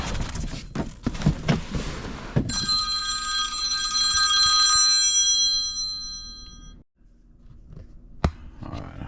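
A telephone rings with a bright electronic ringtone held for a few seconds, loud and close, after some clattering handling noises; it then cuts off into near silence.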